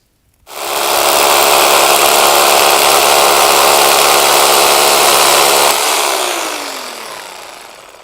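A power drill bores a hole into concrete for a steel wall bracket on a deck build, starting abruptly and holding a loud, steady, high whine for about five seconds before winding down as the bit spins to a stop.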